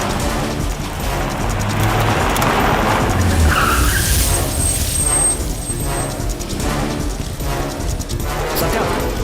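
A car in a South Indian action film scene revs and pulls away with tires skidding and squealing, loud and continuous over engine roar and background commotion.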